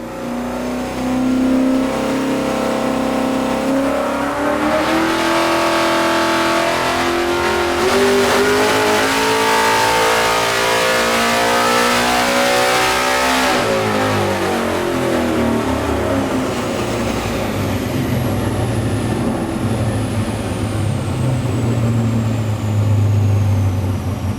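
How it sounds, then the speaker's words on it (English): A car engine on nitrous revs through a full dyno run to about 7800 rpm, climbing steadily in pitch with a loud sustained roar, then dropping back and settling to a lower idle-like drone, no talking. "I've just done a full run on the nitrous."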